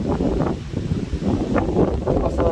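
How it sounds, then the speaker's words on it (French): Strong storm wind in violent thunderstorms near Grenoble in the Alps roars and buffets the microphone in a continuous surge, with rustling and rising gusts throughout. "Oh le vent, attention ça va secouer."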